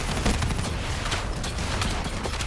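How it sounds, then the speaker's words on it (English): Dense gunfire in Call of Duty Black Ops 3 co-op play, a continuous barrage of overlapping shots and mechanical clatter that stays loud and busy throughout. "let me shoot these guys"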